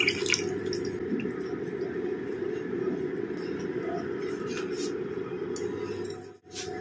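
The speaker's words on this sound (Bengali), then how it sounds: "এবার আমি এর মধ্যে জল দিয়ে দিলাম। মশলার বাটিটা ধুয়ে জলটা দিয়ে দিলাম।" Water rinsed from a spice bowl is poured into a pan of Bengali tilapia curry, making a continuous soft splashing rush that fades near the end, with a faint clink or two and some quiet talk.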